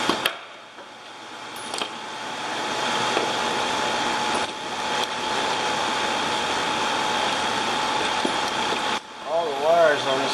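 Cooling fans run loud beside the engine bay of a 2007 GMC Sierra 1500, a steady broadband whoosh that holds for several seconds, with someone talking over it near the end.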